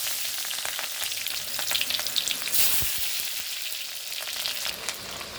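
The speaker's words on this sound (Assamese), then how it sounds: "মই পিঁয়াজ সৰু সৰুকৈ কাটি পূৰণ দি দিলোঁ।" Finely chopped onions fry in oil with cumin seeds, cardamom and cinnamon pieces for a lamb curry, giving a steady, close sizzle with crackling spikes and no talking.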